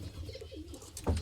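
A racing pigeon coos in a short, soft, wavering phrase up close, followed by a brief louder thump near the end.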